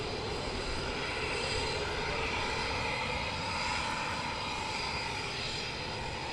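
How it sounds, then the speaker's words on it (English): Military jet aircraft taking off at RAF Coningsby, a steady, loud broadband engine roar that holds at a constant level throughout, with no voices. "This is where they take off with full afterburner."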